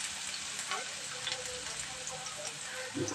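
Onion pieces for pulao sizzle and crackle steadily in a hot pan, a dense, fairly quiet frying hiss with occasional faint stirring clicks throughout.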